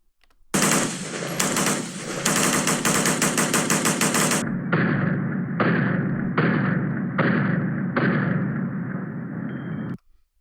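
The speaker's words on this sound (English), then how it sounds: "every time he pulled the trigger back and went forward, 2 rounds came out" Rapid semi-automatic rifle fire with a Franklin Armory binary trigger firing a round on both pull and release, loud close bursts of dense shots in quick pairs, first a continuous rattling stretch, then several short evenly spaced volleys.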